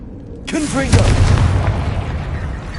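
A Confringo blasting spell goes off in Hogwarts Legacy, a sudden loud boom followed by a crackling, rumbling tail that lingers under game sound and voices.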